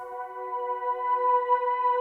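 A soft, sustained synth pad in a lo-fi indie pop mix, thickened by an eighth-note ping-pong echo; the long, slow tone holds steady and fairly quiet for about two seconds with the repeats blurred into it rather than bouncing distinctly.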